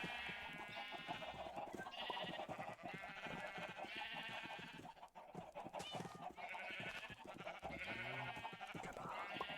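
Several Minecraft sheep bleat continuously in a game, dense overlapping wavering calls with brief gaps and no talk.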